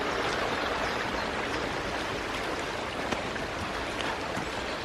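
Stream water running through many channels, a steady close babble and hiss with no pauses and no voices.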